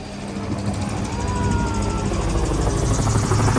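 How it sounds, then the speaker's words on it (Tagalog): A helicopter thrums steadily overhead above Dubai Marina, its rotor beat loud and continuous, heard from a yacht out on the water. "may helicopter pa din na yun, oh."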